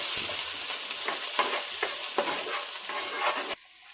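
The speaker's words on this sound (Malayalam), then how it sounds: "ഇനി ഇതിലേക്ക് സവാള ആഡ് ചെയ്ത് കൊടുക്കാം. ശകലം മതി, ഒരു പിടിയാണ് കേട്ടോ, നമ്മുടെ കയ്യിൽ ഒരു പിടി. ഇനി നമുക്കിത് ഇളക്കി കൊടുക്കാം." A handful of sliced onions frying in a pan for beef biryani, stirred with a utensil: a steady bright sizzle runs throughout, with repeated scraping strokes before the sizzle abruptly drops near the end.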